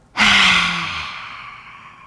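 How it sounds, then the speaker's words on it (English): Forceful, breathy exhale with the tongue stuck out during yoga breathing, a single loud, close whoosh that starts abruptly and fades slowly over about two seconds. "And exhale, stick your tongue out."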